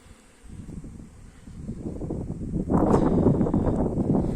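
Honeybees flying outside the hive on a mild winter day during a cleansing flight, a steady buzzing swarm drone mixed with wind noise that builds gradually and grows louder and denser toward the end, with no voices.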